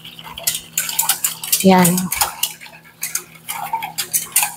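Beef marinade being stirred in a bowl, with a utensil clinking and scraping against the sides in quick repeated taps, close and fairly loud, and a brief spoken word at the start.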